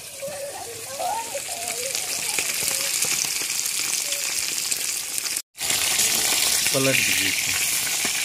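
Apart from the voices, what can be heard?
fish frying in oil in a kadhai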